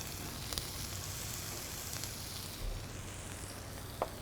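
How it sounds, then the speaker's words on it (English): Julienne shallots sizzling in a hot pan of extra virgin olive oil, a faint, steady frying hiss with a few brief pops and clinks, no talking. "So we got that nice sizzle, that's what we want,"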